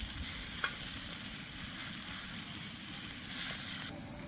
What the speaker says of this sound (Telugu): ఇప్పుడు దీన్ని అయితే మనం మొత్తం మిక్స్ చేద్దాం